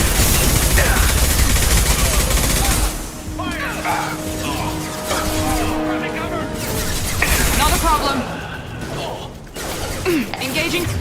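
Gunfire in Mass Effect 2 as Blue Suns and Eclipse-style mercenaries shoot during a firefight: dense volleys of close weapon fire with crashes and mechanical clatter, while voices speak over the combat throughout.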